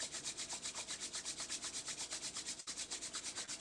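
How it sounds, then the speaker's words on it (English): Palms rub briskly together during a yoga session, a close, quiet, rhythmic swishing repeated many times in an even back-and-forth pulse with no speech. "Rub the palms one more time."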